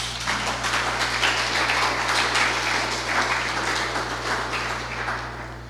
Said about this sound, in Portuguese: Por favor, aplauda o Senhor Jesus.